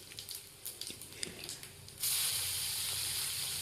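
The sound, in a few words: chilies and panch phoron spices frying in hot oil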